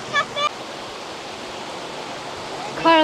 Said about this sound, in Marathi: खळखळ वाहणारं पाणी, जे पाणी वरून डोंगरातून येतं